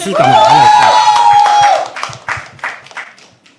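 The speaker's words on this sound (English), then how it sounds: "Clap till she comes" An audience at a live poetry open mic claps after a voice rings out with a long, drawn-out call; the applause stays loose and scattered, fading out.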